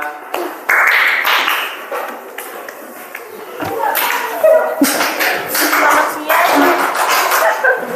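Schoolchildren in a classroom give a short patterned group clap in quick bursts, with light tapping and classroom voices around it.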